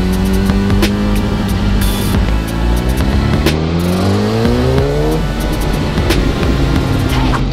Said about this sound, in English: Rocking the Sportster is loud, I like it.